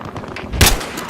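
A single sharp sniper shot in Battlefield Hardline cracks loudly and briefly over a low rumble of game background noise.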